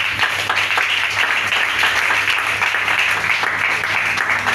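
A church congregation applauding during a service, a dense, loud, continuous wash of clapping that holds steady throughout without pause.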